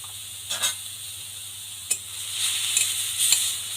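A vegetable mixture with salt and turmeric is stirred in a pan, giving a quiet steady sizzle punctuated by a few short scrapes of the spoon.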